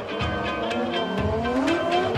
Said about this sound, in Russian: И Лосев в роли лидера немного отрывается на разгоне